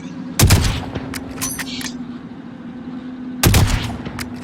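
Two loud, close sniper rifle shots in the video game Warzone, roughly three seconds apart, each a sharp crack with a booming tail over a steady game hum.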